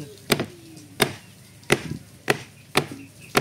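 Meat being chopped on a wooden cutting board for a home-cooked dish: six sharp, close cleaver thwacks land at a steady, slightly uneven pace, each a crisp hit with a brief woody knock.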